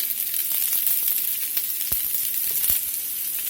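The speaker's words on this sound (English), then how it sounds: "we're just going to saute these over a medium-low heat to get a good color on them" Beef chunks for stew sauté over medium-low heat in a crowded pan, giving a steady, close sizzle and crackle with a few sharp pops and the scrape of stirring. Nobody speaks.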